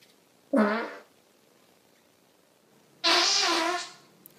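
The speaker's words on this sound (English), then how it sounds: "That's a fart." Two fart sounds in a quiet room, a short sputtering one followed after a pause by a longer, louder, drawn-out one.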